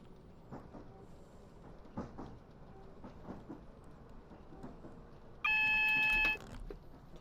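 Steady rolling rumble of a train in a driving simulator game, running through the South London Network on a Bedford to Brighton service, with a loud, sustained electronic warning tone sounding briefly near the end.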